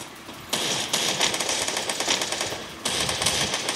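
Rapid automatic gunfire in the mobile shooter game Free Fire comes in loud, crackling bursts, two long strings of shots separated by a short pause.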